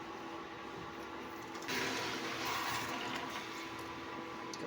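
Water pours steadily into a pan holding jaggery for banana barfi, with a broad rushing splash that starts partway through, over a low background hum.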